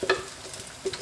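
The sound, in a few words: refried chickpeas frying and being stirred in a pot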